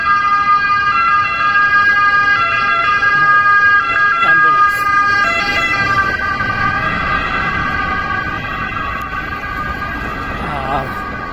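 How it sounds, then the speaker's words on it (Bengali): A police car with its siren wailing passes on a road at night. The loud, wavering siren dominates at first and gradually fades amid traffic noise. "যদি পুলিশের গাড়ি আসতেছে"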